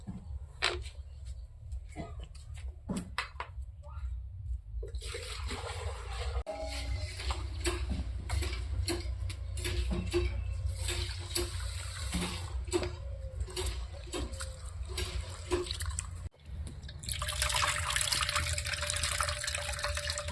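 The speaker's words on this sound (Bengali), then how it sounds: "আর এদিকে আমি ডালটা ধুয়ে নেব" Mashkalai dal lentils are washed by hand in water, giving a soft, continuous splashing and sloshing that is faint and close, with running water and a brief louder rush near the end.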